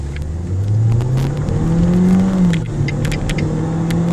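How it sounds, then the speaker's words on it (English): A Mercedes car in sports mode accelerates hard, its engine note climbing steadily in pitch over a few seconds, loud and close from inside the cabin, with road and wind roar beneath and no talking. "So just for fun, I thought I'd try to test the car in sports mode."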